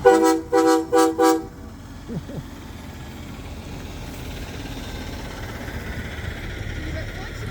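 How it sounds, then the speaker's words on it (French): A car horn honks four times in quick succession during a snowstorm at a house, then a vehicle idles quietly with faint background noise. "Tu lui fais klaxon? Vas-y, fais klaxon."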